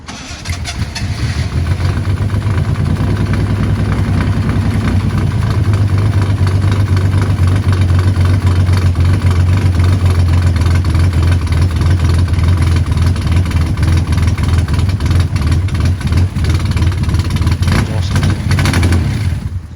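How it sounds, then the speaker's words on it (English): A Ford Capri 3.0 Ghia's engine, from a barn find car, cranks and fires up on its first start, then settles into a loud, steady idle that rumbles on for a long stretch, recorded close up from the back. "This is the same first start from the back."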